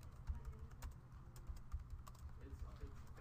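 Typing on a computer keyboard during a Microsoft PowerPoint lesson, a faint, steady run of soft key clicks over a low background hum, with no talking.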